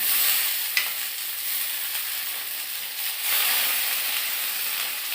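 Potatoes fry in hot oil in a pan, giving a steady close sizzle with a small clink early on and surges of hissing as they are stirred.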